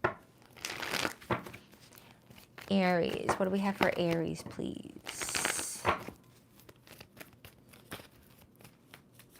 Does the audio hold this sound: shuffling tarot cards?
yes